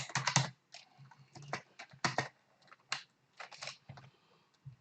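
Computer keyboard typing in bursts of rapid clicks, separated by short pauses, close and fairly quiet in a dim room with no voices.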